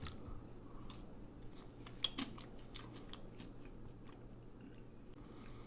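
Close, soft chewing of freshly roasted potatoes with garlic, pepper and parsley, quiet wet mastication with a few crisper bites, heard alone without talk.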